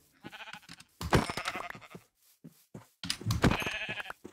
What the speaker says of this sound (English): Just killed the sheep.